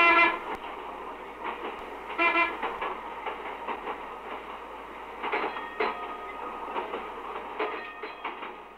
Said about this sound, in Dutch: Rijden, remmen en toeteren. Veel toeteren, want er komen steeds meer automobilisten.